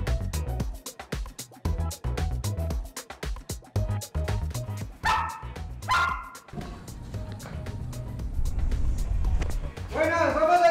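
Search and rescue dogs bark over and over during collapse-rescue training. Loud, close woofs come in rapid bursts with occasional yips and whimpers, and there is a short pause before the barking resumes steadily.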